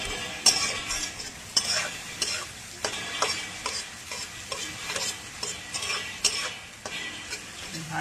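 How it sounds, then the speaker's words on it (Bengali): Onions fry in a pan while a spatula stirs them, giving a constant close sizzle broken by repeated scraping and tapping strokes against the metal at an uneven rhythm. "যতক্ষণ না কালার আসবে পেঁয়াজে ভালো করে এবং নেড়ে নেড়ে করব।"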